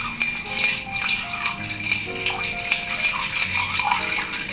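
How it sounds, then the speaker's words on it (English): Ice rattling and clinking as a peanut butter and chocolate cocktail is stirred in a mixing glass, a steady close-up jangle of cubes with a soft hum in the background. "stir, stir, stir."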